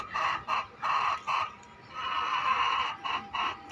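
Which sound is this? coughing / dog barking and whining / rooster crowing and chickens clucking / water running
rooster crowing and chickens clucking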